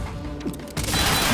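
A gun being reloaded in the video game Quantum Break: quick mechanical clicks and a metallic clack, followed by a louder rush of action noise.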